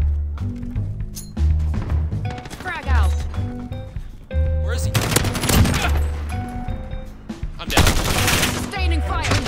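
Rapid automatic gunfire and bursts of shots ring out in the video game Call of Duty Warzone, loud and close, mixed with game music and occasional voices.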